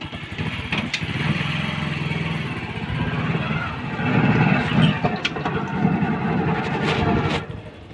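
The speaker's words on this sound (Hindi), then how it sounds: "ये देखकर मैं बाइक स्टार्ट की है मैंने और आपको चला कर दिखाता हूँ।" Motorcycle engine running steadily at idle with a low throbbing rumble, a few sharp clicks and bumps over it, and a slight rise in intensity midway; no talking.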